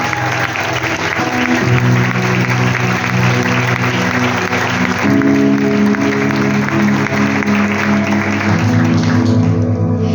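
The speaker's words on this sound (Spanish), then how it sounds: "Dale fuerte el aplauso al Señor." A church congregation applauds loudly and continuously during a worship service, with sustained organ or keyboard chords ringing underneath the steady roar of clapping.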